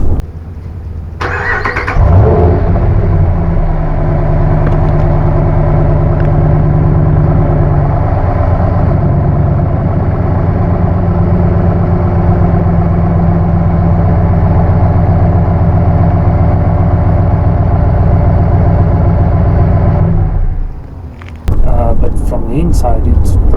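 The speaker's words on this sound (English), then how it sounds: "you can definitely hear the V8. I'll try and record the engine sound." A V8 car engine starts with a brief crank, then runs at a loud, steady idle close by for about twenty seconds before cutting off.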